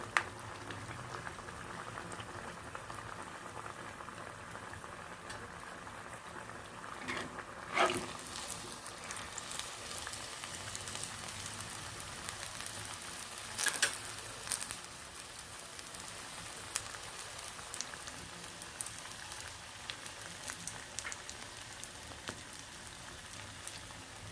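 Raw papaya pakoras deep-fry in oil with a soft, continuous bubbling crackle like light rain, quiet and even, with a couple of slightly louder bursts of spatter along the way.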